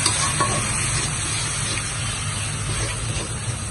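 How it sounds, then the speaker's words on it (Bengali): Spice paste fries in a hot pan with a continuous, close, loud sizzle that holds steady throughout, with faint stirring scrapes mixed in. "এটা আমি সুন্দর করে নেড়ে দিব।"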